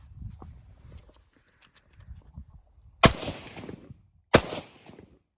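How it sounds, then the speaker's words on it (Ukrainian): Two sharp, muffled gunshots from a rifle fitted with a HORDE QD-T suppressor and flash hider crack a second apart after some quiet shuffling, each followed by a brief decaying rumble. "Стріляю."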